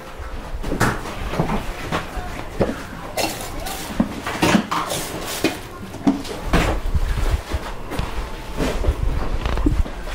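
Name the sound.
glasses, jug and kitchenware being put away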